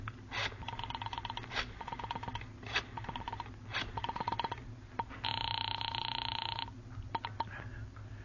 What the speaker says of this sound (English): You quickly reach for the phone.